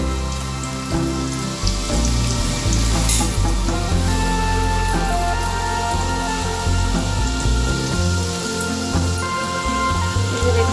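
Khesari dal being poured into a pan, heard as a steady, loud patter of falling grains and a spray-like hiss that runs continuously without talk.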